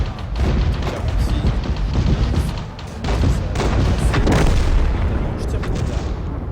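Artillery fire in the World of Tanks video game sounds as deep booming blasts over a dense rumbling battle din, with someone talking in French over the top.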